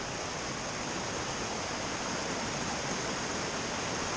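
Creek water in the Great Smoky Mountains rushes steadily with a dense, even broadband hiss, constant throughout and fairly quiet, with no voices.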